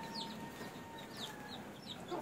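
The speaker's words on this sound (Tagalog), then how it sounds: "Ayan, dalawang manok yan mga kakosa." Quiet, repeated clucking from a couple of chickens close by, short bursts spaced through steady background noise.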